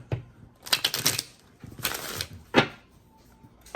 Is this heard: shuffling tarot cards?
yes